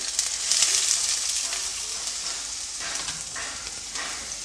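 Chopped onions and green chillies fry in a pan for masala bread toast, giving a continuous bright, hissing sizzle that swells slightly early on and stays steady, with no voices.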